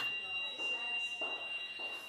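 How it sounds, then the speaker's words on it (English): A hospital fire alarm sounds in a repeating pulsed buzz, fairly faint and steady behind the surrounding room noise. "that's the fire alarm"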